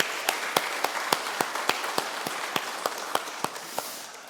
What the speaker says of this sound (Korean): 그 하나님께 우리 영광의 박수 올려드리도록 하겠습니다.